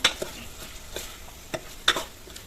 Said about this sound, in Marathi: आता मसाला घातल्यानंतर परत एकदा मी हलवून घेतले